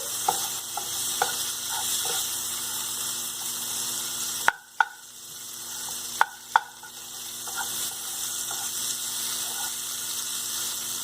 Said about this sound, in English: And now I'm going to add potato, mashed potato. Nicely mix it well.